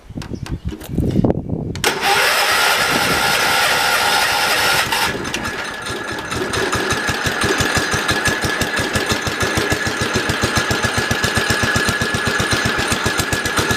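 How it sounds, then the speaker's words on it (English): A Cub Cadet 1200 garden tractor engine cranks briefly, then catches and roars up loud, settling into a rapid, rhythmic, somewhat rough running chug close by, with no talking. "Got to give it a little bit of gas so it'll start up."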